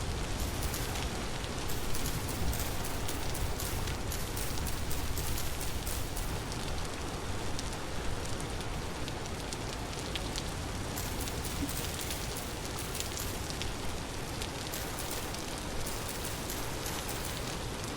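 Steady rain falls without pause in the video game Vintage Story, a dense, even hiss of drops spread across the whole stretch with no voices over it.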